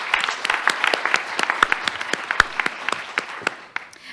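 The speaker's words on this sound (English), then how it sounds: "So let's thank them with a round of applause." Applause from a modest audience at a community health event, made up of distinct individual claps that sound scattered rather than dense, close and fairly loud, tapering toward the end.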